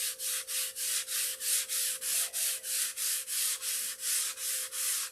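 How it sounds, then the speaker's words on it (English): Rhythmic hand sanding with fine sandpaper, steady back-and-forth strokes about three per second, a dry raspy hiss with a faint hum underneath. "The endless hours of sanding."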